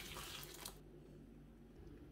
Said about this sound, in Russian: Все микроорганизмы убираем крутым кипятком. Заливаем зонтики буквально на 1 минуту.